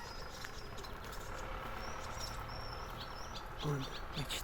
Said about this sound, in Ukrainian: Бачите, як ті ласточки літають, збираються.